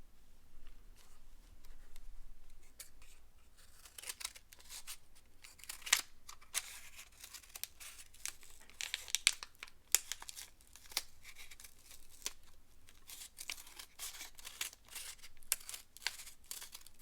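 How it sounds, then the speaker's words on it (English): Office scissors snipping and slicing through paper in a quiet room, a run of soft crisp cuts and crinkles at close range, low in level and with no talking. "I think I'm going to need my scissors."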